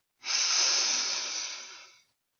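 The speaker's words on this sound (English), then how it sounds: "So deep breath, deep, deep, deep breath." One deep, heavy breath, a long, loud airy exhale of about two seconds heard alone and close.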